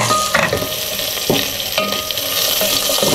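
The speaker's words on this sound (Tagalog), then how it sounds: "Tirahin na natin itong sibuyas" Onions sautéing in a pan, with steady loud sizzling and frying throughout and repeated stirring scrapes at roughly half-second intervals, close up with no talking.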